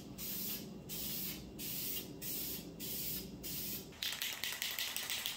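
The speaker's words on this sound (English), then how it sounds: "I just gotta spray the print with primer" A rattle can of Dupli-Color filler primer sprays a 3D-printed Boba Fett helmet in five or six short bursts of close hissing, then a rattling shake of the can at the end.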